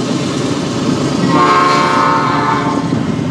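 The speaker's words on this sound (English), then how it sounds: "we've got a train coming." A train passes at the Homer Soda Festival, its loud rumble rolling steadily close by as a long, sustained horn blast comes in partway through and holds for over a second.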